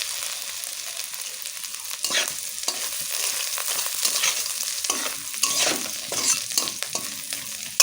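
Ginger and panch phoron sizzle in hot oil in a heated wok, with a continuous close frying hiss and intermittent scraping stirs, no voices.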